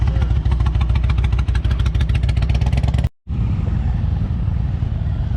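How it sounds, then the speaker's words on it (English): A BMW GS motorcycle rides through a slow cone course, its engine chugging in a steady close rhythmic pulse with a brief dropout partway through. "Now, this is a BMW GS, extremely maneuverable motorcycle."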